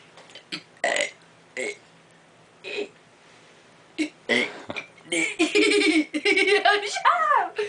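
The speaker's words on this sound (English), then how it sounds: "I'm going to be burping my ABCs" A person burps the alphabet as a string of short, separate burps, interrupted partway by giggling and laughter from others close by.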